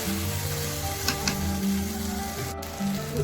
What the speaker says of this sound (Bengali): এখানে আমরা মাংসটা 10 মিনিট ভালো করে কষে নেব